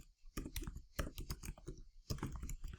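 Quick bursts of typing on a computer keyboard as a font name is entered, crisp clustered key clicks in three short runs separated by brief pauses, close and fairly quiet.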